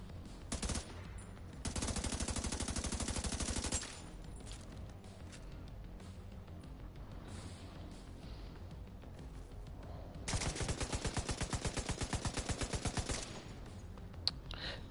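Gunfire in The Division 2 arrives as two sustained automatic bursts of fast, evenly spaced shots, a couple of seconds each, separated by quieter background sounds.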